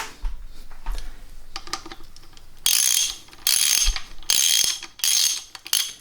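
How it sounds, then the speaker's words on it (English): On a Triumph TR4 engine rebuild, a ratchet with a 7/16 12-point socket snugs up the bearing cap bolts. Bursts of rapid, bright clicking repeat several times, close by and with no talking. "they're 12-point heads on these bolts, so you need a 12-point socket"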